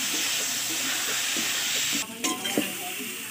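Fish being stirred with turmeric and salt in a hot pan while cooking a spicy magur catfish kosha, a steady sizzle with a few scraping stirs near the end, close and moderately loud.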